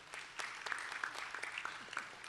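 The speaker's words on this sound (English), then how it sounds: "Let's give them a round of applause." Scattered applause from an audience at a city awards ceremony in Tempe, faint and sparse with a few distinct claps standing out over a quiet room.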